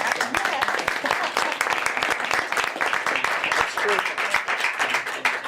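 Clapping at a prison reform roundtable in Bedminster, New Jersey, a dense run of sharp hand claps from a group that carries on steadily throughout, with voices mixed in underneath.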